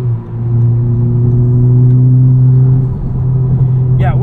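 Modified 2021 Honda Civic Type R with aftermarket exhaust, a loud steady engine drone heard from inside the car that rises gently in pitch while it builds revs, fading slightly toward the end.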